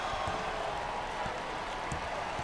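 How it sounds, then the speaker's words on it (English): Basketball crowd noise at a college game in a packed arena, a broad steady roar of fans cheering that holds at an even level throughout with no clear individual voices. "Wow, listen to those fans. The crowd is thunderous."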